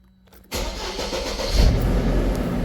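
A car engine cranks briefly after a quiet moment, then catches and starts right away, settling into a loud, steady running roar close by.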